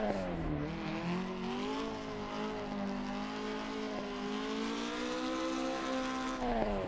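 A Toyota Corolla street car held in third gear through a turn gives a steady, droning engine note whose pitch dips and rises slightly, alone without any talk.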